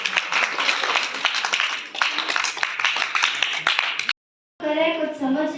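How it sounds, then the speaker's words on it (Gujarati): Loud applause from a school farewell audience for standard 8 pupils in Mangrol, Junagadh, with dense rapid clapping for about four seconds, a brief silence, then a voice speaking over music. "જોરદાર તાળી।"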